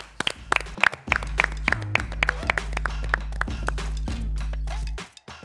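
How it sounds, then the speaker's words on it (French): Studio audience on a French evening talk show claps in rhythm as a guest walks onto the set, sharp regular beats over a steady low musical pulse, ending abruptly. "on l'applaudit"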